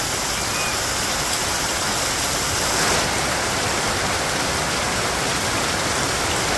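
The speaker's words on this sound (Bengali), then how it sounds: "বাবারে বৃষ্টি, এক হাত জল পারবো এই বৃষ্টিতে, এক হাত।" Heavy monsoon rain pours down on a village in Bangladesh, a dense, loud, unbroken roar of falling water that holds steady throughout with no voices.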